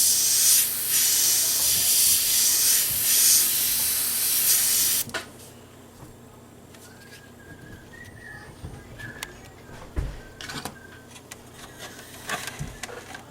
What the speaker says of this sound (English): What I'm going to do is I'm going to start spraying the right edge of a flame here.